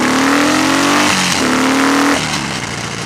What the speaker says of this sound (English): Let's give it a little rev, shall we?